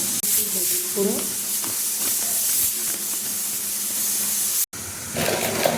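Okra and green chillies fry in a pan with salt, giving a loud, continuous hissing sizzle and steam close by. A faint voice comes through briefly near the start, and there is a short cut-out near the end.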